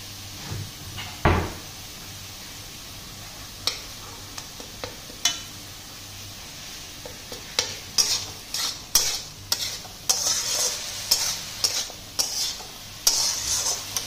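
Grated coconut fries in a pan and is stirred together with kosala leutia greens, giving a soft steady sizzle broken by scraping strokes and sharper clatters that bunch up toward the end.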